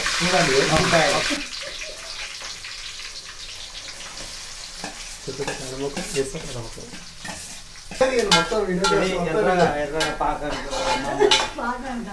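Green chillies fry in a pan with a steady sizzle while a utensil stirs and scrapes against the metal, clinking now and then, louder in the final stretch, with voices talking over the cooking.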